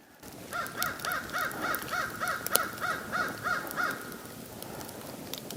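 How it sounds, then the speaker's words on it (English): Crows caw in a steady series of about a dozen evenly spaced calls over a windswept backdrop in Voyageurs National Park, moderately distant and without talk. "Been a few crows around"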